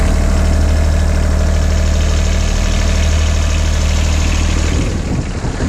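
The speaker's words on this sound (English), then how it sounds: "Success! Engine started." An engine runs loudly and steadily close by, a constant low rumble with a faint rattle, easing slightly at the end.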